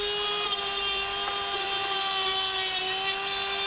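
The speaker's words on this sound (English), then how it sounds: "I'm just going to clean these up with a wire wheel on the Dremel" A Dremel rotary tool fitted with a wire wheel scrubs rust off small metal clips, giving a steady, close, high-pitched whine that holds without a break throughout.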